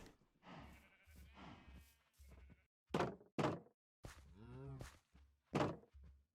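Sheep bleating in Minecraft, several short wavering bleats interspersed with soft thuds of animals moving, fairly close and clear, with no talking.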